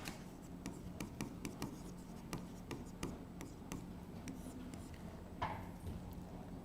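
Handwriting during a psychology lesson: faint, rapid taps and scratches of a pen or chalk in an irregular rhythm over a low steady room hum.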